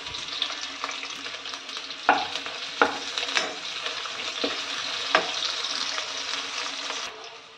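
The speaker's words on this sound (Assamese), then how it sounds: "কাটি লোৱা পিয়াজ দি দিছো" Chopped onions and whole cumin frying in a generous amount of oil in a wok for a jackfruit dish, with a steady sizzle and several sharp scraping clacks of a spatula stirring at irregular intervals, close and alone.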